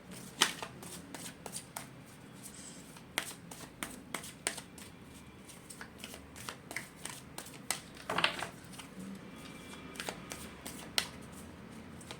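Tarot cards being shuffled by hand, a steady soft riffling with repeated sharp flicks and taps, close and fairly quiet, with no voices.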